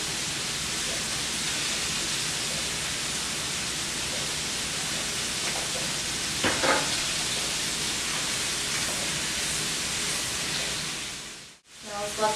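Vegetables for a shrimp stir fry cooking in a pan, giving a steady, hissing sizzle throughout, close and fairly loud, with a brief clatter midway and a short drop near the end.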